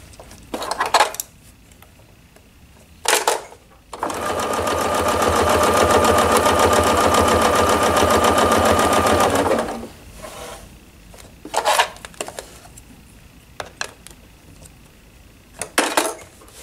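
A sewing machine stitches a row on a table runner in one steady, loud run of about six seconds, framed by brief rustling and handling of the fabric before and after.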